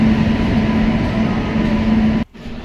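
A continuous heavy rumble of the Bhubaneswar–Yesvantpur AC Special Express entering Gooty Junction station, with a low steady hum, cutting off abruptly just before the end.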